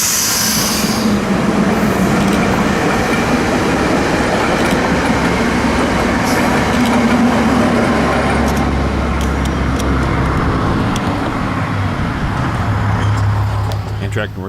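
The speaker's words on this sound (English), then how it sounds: "Amtrak Northeast Regional number 184 races north with an ACS 64 on its way to Boston, Massachusetts from Washington, D.C." An Amtrak Northeast Regional train hauled by an ACS-64 electric locomotive racing past on the Northeast Corridor: a loud, steady roar of wheels on rail lasting throughout, with rhythmic clatter and a faint squeal as it passes close by.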